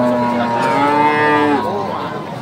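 A cow at a cattle market in Wonogiri, Central Java, gives a loud, long, deep moo that falls off near the end, close by, with faint crowd noise behind.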